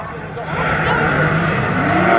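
A Nissan GTR roars down the strip in a drag race at Elvington Airfield, its engine building into a loud, sustained drone as it passes, with a commentator's voice over the noise.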